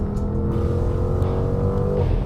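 Porsche Cayenne GTS V8 engine revving with an 8-speed Tiptronic gearbox, a loud, steady, close growl that holds throughout with a slight pitch rise near the end.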